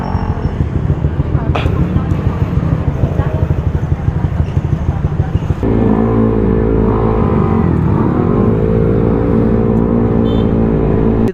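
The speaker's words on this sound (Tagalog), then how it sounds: "Ayan, umaandar naman na yung motor natin." A Yamaha Aerox V2 215cc scooter engine runs nearby at a fuel station, first idling with a rapid pulsing putter, then settling into a steadier, higher humming drone. Voices talk over it.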